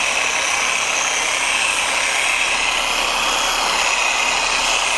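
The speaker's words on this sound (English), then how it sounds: "I'm just kind of letting the orbital polisher do its work here." An orbital polisher buffs Harley-Davidson paint with a constant, close whirring hum that holds steady throughout with no pauses.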